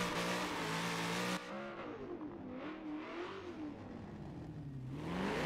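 A 1000+ horsepower rear-wheel-drive car at Dubai circuit in Forza 7 roars at full revs, then drops to a lower, wavering engine growl that rises again near the end.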